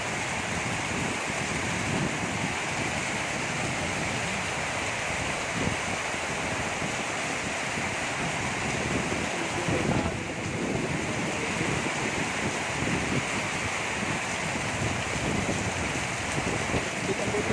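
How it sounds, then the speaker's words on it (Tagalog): Heavy rain from Typhoon Crising in the Philippines pours steadily, a dense continuous hiss with gusty wind noise, unbroken throughout. "Ito malakas yung ulan mga idol."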